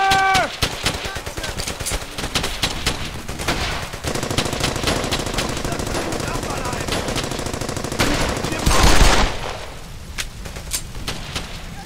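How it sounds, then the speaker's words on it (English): Suppressing machine-gun fire in the World War II shooter Brothers In Arms: Hell's Highway, loud and sustained rapid bursts rattling continuously, with an especially heavy burst near the end. "suppressing fire!"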